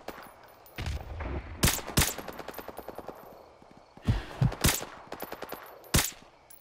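Gunfire in the video game Modern Warfare Remastered: loud bursts of automatic fire and single sharp shots in clusters, with rapid rattling volleys close by against a background of battle noise.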